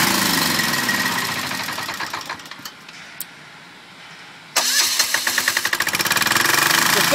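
An electric start rail profile grinder engine is switched off with the key: a loud running rumble winds down to quiet, then a rhythmic knocking engine sound resumes and builds near the end.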